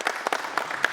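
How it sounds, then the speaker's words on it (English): A group applauds at a catch wrestling seminar, dense overlapping claps that are steady, near and fairly loud for the whole second. "Let's give him a large round of applause"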